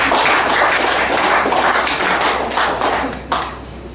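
Dense, loud applause from an audience at a regional government official's public address in Keerom, steady clapping filling four seconds with a final sharp knock near the end.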